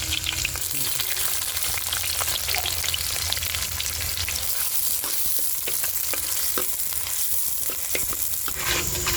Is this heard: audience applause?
no